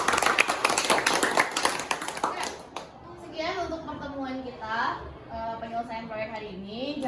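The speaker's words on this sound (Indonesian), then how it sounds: "Tepuk tangan dulu dong kalian semua" Students clapping hands in a classroom, a brisk burst of many hands for about three seconds that then stops, followed by someone speaking.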